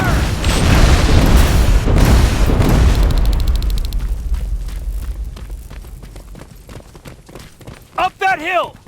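Gunfire and booming explosions from the Terminator: Resistance shooter game crash densely at first, then thin into scattered shots and bursts, and shouted voices break in near the end.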